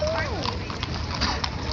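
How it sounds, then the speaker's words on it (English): Hooves of a horse walking through a downtown cattle drive clop on pavement in an uneven rhythm, close by, beneath people chatting. "It's a pretty horse."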